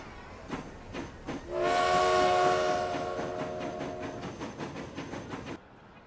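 A train in the video game Transport Fever sounds a loud sustained horn over the rumble of rolling wagons, the tone fading after a couple of seconds while the rhythmic clatter continues, then cuts off.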